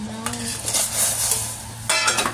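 Pork being blanched in a small pot of water for yellow cucumber soup, with soft stirring and scraping of a utensil against the pot over a steady low bubbling hum, plus a brief louder clatter near the end.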